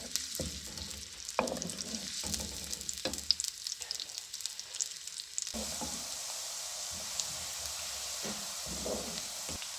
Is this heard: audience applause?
no